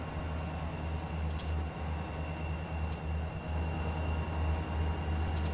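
A Norfolk Southern freight train on the Coal District route around Horseshoe Curve in Train Sim 2020, hauled by diesel locomotives, gives a steady, loud low rumble with a droning engine hum and faint rhythmic wheel clacks. There is no talking.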